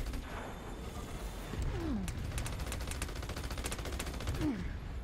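Turret gunfire in Battleborn, a steady run of rapid shots under a busy game mix, fairly quiet and at middle distance, with a couple of short sweeping effects.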